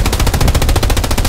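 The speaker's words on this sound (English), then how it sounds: "just blap that with the MG fire" Tank machine gun in Hell Let Loose firing one rapid, even burst of about a dozen loud, close rounds, each shot sharp and punchy in a steady rattling rhythm.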